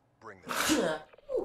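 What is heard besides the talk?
sneeze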